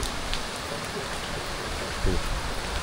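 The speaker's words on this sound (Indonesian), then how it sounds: "Tuh, kita akan hujan-hujanannya karena sekarang lagi hujan banget." Heavy rain pours on a flooded road along the Anyer route, a steady dense hiss of falling water close by, with a brief louder splash near the end.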